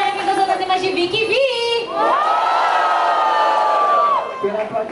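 Loud crowd cheering and shouting fills a rap battle venue, swelling into a sustained roar with whoops over it, while a host's voice carries through at the start.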